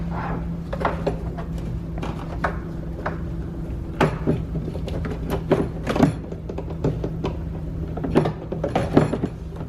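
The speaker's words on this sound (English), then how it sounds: "Line the bolts up and snap it in there." A plastic side mirror assembly on a 2013-2020 Ford Fusion is fitted and snapped into place, a series of scattered clicks, knocks and plastic thunks over a low background hum.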